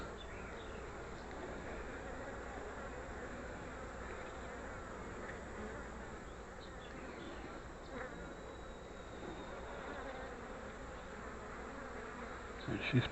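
Honey bees drone in a dense, continuous buzz as they crawl over a brood-filled hive frame, steady and close throughout, with no talking.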